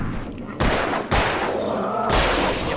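Gunshots in the horror game Alan Wake 2, several loud booming reports spaced across a couple of seconds, each with a heavy thud and ringing tail, close and forceful.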